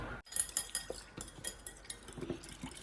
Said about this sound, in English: All right, whisk, whisk, whisk.